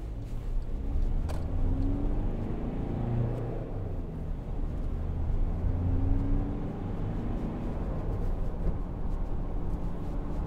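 A 2012 Volkswagen Amarok 2.0 BiTDI Trendline pickup drives along a bumpy road, heard from inside as a steady, close engine and road rumble with a low drone that holds throughout.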